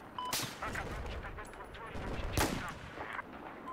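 Gunfire in the video game Battlefield 4 during a sniper fight, with a couple of sharp shots standing out over a steady bed of game noise, fairly faint overall.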